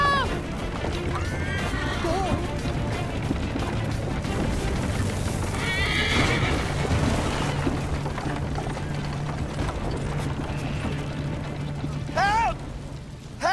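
A horse whinnies sharply in the Assassin's Creed Liberation video game, heard near and clear amid hoofbeats, game music and bustle, with shouted voices in the scene.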